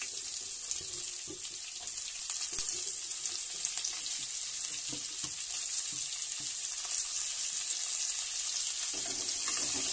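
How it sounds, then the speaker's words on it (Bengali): Chopped onions frying with garlic in oil for chicken kosha, a steady hissing sizzle running throughout with faint scattered stirring scrapes. "রসুন ভাজা হয়ে গেছে। আমি পেঁয়াজ কুচানাগুলো তুলে দিচ্ছি এর মধ্যে।"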